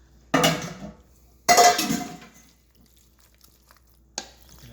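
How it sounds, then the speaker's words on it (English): A meat mixture is stirred into baked ziti in a pot, giving two long bursts of scraping, clanking strokes close by, a quiet pause, then one short knock of utensil on metal. "we're going to put the meat mixture and mix this all together"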